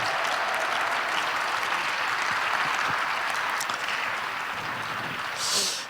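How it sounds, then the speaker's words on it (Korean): At a youth prayer gathering for peaceful Korean reunification, a congregation gives warm, sustained applause after a special song, a dense even roar of many hands clapping throughout. "다시 한번 뜨겁게 박수해 주시기 바랍니다"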